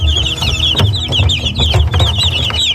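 Three-week-old white silkie chicks of the Korean Baekbong Ogolgye breed cheep and cluck in a busy, overlapping chorus, with continuous high peeping close by and no one speaking.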